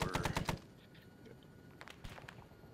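A KPV heavy machine gun in a video game fires a short, loud burst of about five rapid shots, then falls quiet, with faint scattered impacts or distant reports following.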